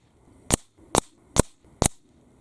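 A Hammerli Force B1 toggle-action .22 LR rifle fires four sharp, evenly spaced shots, each a brief crack with a short decay, heard alone against quiet background.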